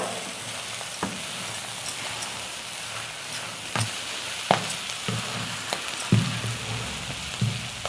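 Clam meat fries in a pan with an even, crackling sizzle, punctuated by several sharp clinks and scrapes from stirring scattered through the clip, with no voices.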